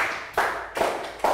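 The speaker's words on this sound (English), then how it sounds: "Round of applause for Pak Moon" A few claps from a small group in a primary school English class, coming in three short loud bursts with brief gaps between them.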